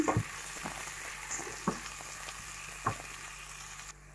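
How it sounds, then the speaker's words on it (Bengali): Onions frying in mustard oil, a quiet steady sizzle in a pan with a few sharp clinks of a utensil stirring at intervals. "আর এখন আমি সরিষা তেল দিয়ে পেঁয়াজগুলো ভেজে নিচ্ছি"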